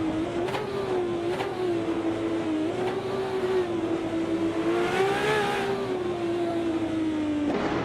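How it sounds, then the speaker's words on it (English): A 1997 Panoz Esperante GTR race car in a racing video game holds a loud, steady engine drone throughout, with the pitch rising and falling slightly as it revs and shifts, and no voices. "driving a 1997 Panoz Esperante GTR"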